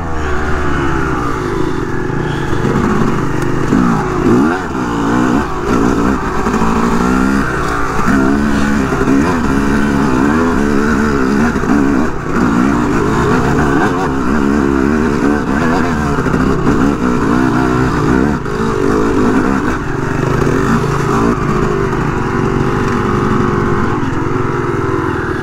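A dirt bike engine on mountain trails in North Carolina drones steadily and loudly throughout, a continuous buzzing hum with slight fluctuations in pitch and no pauses.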